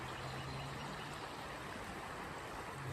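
Creek water flows beneath a small bridge at an old mill site, a steady, even rushing hiss with no breaks, fairly quiet and without any voices.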